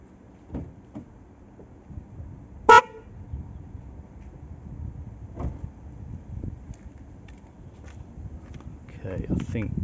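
An upgraded car horn on a Nissan Qashqai J11 gives one short, loud blast near the start, set against quiet background noise, footsteps and movement, with a person talking nearby.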